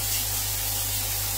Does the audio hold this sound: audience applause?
no